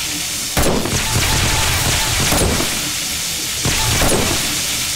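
Gunfire from the 7 Days to Die video game during a horde night against bikers, with two sharp broadband blasts about three seconds apart, each with a short decaying tail over a steady noisy game background.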